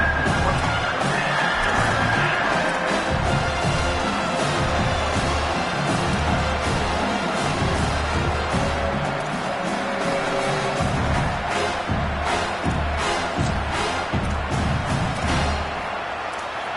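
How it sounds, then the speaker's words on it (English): American football stadium crowd roaring loudly and continuously during a red-zone play, a dense wall of cheering and shouting that holds steady from start to finish. "This crowd knows they have to bring it in big moments"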